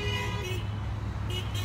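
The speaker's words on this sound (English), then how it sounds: "You can hear some horns honking in support of these people." Car horns toot in support of a street protest in Toledo over steady traffic rumble, a sustained honk at the start and another short blast near the end, moderately distant.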